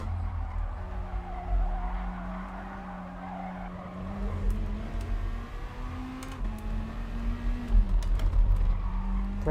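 Gran Turismo Sport race car braking hard, with tire squeal and skidding over a steady engine drone, the pitch rising and falling as the car slows; close and continuous.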